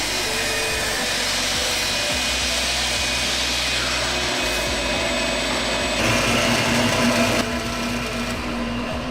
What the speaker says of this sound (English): Here we're cutting 6 bowl blanks from this one long glued up piece of wood.